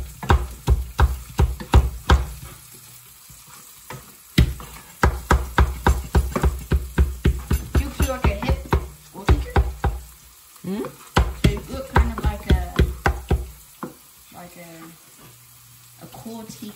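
Peppers stirred as they fry in a pan at home, with rapid clattering scrapes and sizzling in bursts, loud and close, pausing briefly between rounds of stirring.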